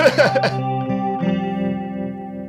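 A synth tone runs through a Polar Vortex-style Juno 60 bucket-brigade analog chorus pedal. It sustains with a slow, rich, gently swirling shimmer that fades steadily after a brighter attack.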